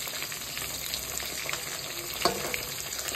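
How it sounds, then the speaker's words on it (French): Food, including fish and egg, frying in a pan on a gas stove with little oil, giving a steady crackling sizzle throughout with occasional small pops, close and unaccompanied by speech. "je vais frire"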